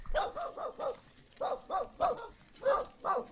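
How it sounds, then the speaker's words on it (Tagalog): A dog barks repeatedly outdoors in bursts of several sharp barks with short pauses between them, moderately close. "Lagi na lang may aso."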